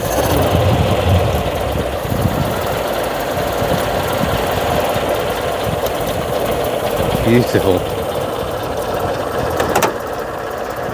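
The side valve engine of a classic Costin-DKW car idles at a Pembrokeshire classic car show with a smooth, steady, fast mechanical whirr and very little valve clatter. It is close and continuous, with a person briefly speaking over it.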